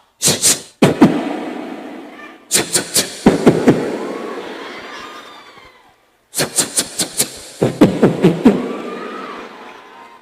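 Loud fireworks go off in three rapid clusters of sharp bangs, each burst followed by crackling and a fading rumble.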